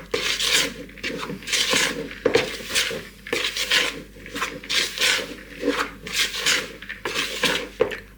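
Suet dumpling dough is mixed with water in a bowl, a close, steady rhythmic scraping and rubbing of a utensil against the bowl, repeating in strokes without talk.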